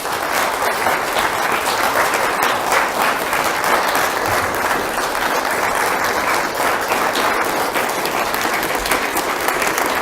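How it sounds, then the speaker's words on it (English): Sustained audience applause at an inspirational talk, a dense, steady wash of many hands clapping for the full length with no gaps. "How about another round of applause?"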